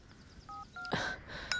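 A telephone being dialed in a Marathi film scene, with a few short keypad tones in quick succession followed by a brief burst of noise, fairly quiet and close.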